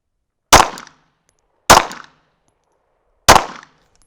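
Three loud pistol shots fired at a distant target ring out one at a time, each a sharp crack with a short decaying tail, spaced over a second apart with silence between them.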